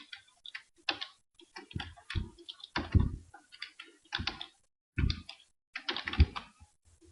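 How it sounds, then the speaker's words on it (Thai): Typing on a computer keyboard to enter text in CorelDRAW, producing irregular clusters of close, crisp key clicks with short pauses between them. "เราจะทดลองพิมพ์ให้ดูนะครับ"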